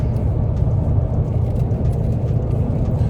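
A car drives home from a cruise port garage, heard from inside as a steady, loud low engine and road rumble with a constant whir, no talk.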